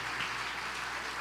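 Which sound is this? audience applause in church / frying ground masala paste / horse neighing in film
audience applause in church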